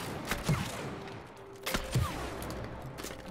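Two or three quiet gunshot-like bursts from shooting in the co-op video game It Takes Two, short muffled pops spaced about a second apart against a low steady background.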